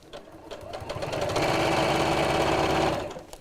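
A sewing machine stitching around a drawstring box bag, its motor speeding up into a fast, steady whirring run before slowing and stopping.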